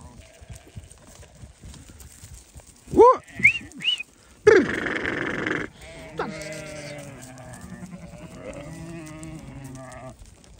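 Sheep in a flock bleat loudly in several overlapping calls as they are given salt, with rustling and shuffling of the animals around them and soft background noise between cries.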